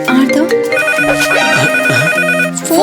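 A mobile phone ringtone plays loudly and continuously, a looping electronic melody of bright repeating tones with no talking over it.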